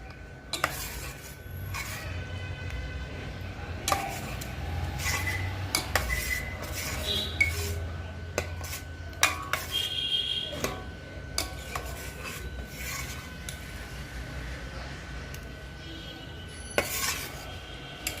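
A spoon scrapes and clinks against a metal pot while sweet raw-mango pickle is stirred, brought in from drying in the sun with its cloth cover untied; repeated scraping strokes and sharp taps, close and fairly loud.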